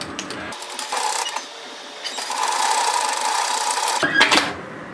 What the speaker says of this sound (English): So sew the side seam at 1 centimetre.